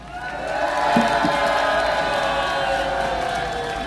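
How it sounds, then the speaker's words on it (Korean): Crowd at an outdoor political rally protesting election fraud cheers and applauds, a sustained broad roar of many voices and claps with a few louder whoops rising early, continuing steadily throughout. "박수 주세요"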